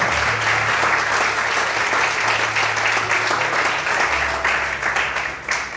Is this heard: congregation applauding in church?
yes